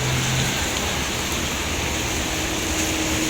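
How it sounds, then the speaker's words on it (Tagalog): Steady, heavy rain pours down in a dense, continuous hiss with no pauses, close and loud throughout. "Naulan pa, lakas."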